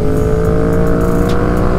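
Yamaha MT-07 motorcycle fitted with an Akrapovic carbon exhaust, running steadily with a loud, continuous engine drone close by and no voices.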